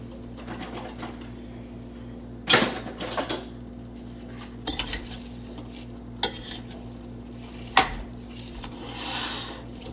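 Tuna tetrazzini mixture seasoned with thyme, garlic powder and pepper being stirred in a pan: scattered spoon scrapes and sharp metal clinks over a steady low hum, with quiet gaps between.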